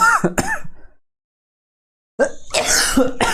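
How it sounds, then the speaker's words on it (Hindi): A man teaching a maths class coughs in close, loud, rough bursts at the start and again after a silent pause, the second bout longer and harsher. "इतना खांसी क्यों आ रहा है।"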